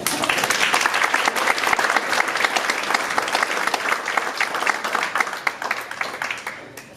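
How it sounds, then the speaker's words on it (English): Sustained audience applause at a Meet the Candidate Night, a dense, steady wash of many hands clapping for the evening's local election candidates, loud and continuous before tapering slightly at the end. "they deserve a round of applause"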